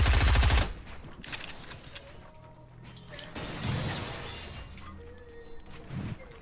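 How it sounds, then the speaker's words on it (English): Gunfire in an online shooter video game, a loud dense automatic burst at the start that cuts off, followed by quieter scattered shots, thuds and game sounds at low level. "They're shooting at me."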